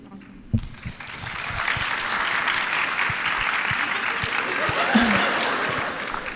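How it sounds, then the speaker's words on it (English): An audience claps at an interview-style talk event, a dense, fairly soft patter of many hands with a few sharper close claps near the start, continuing steadily without pause. "Thank you for clapping every time."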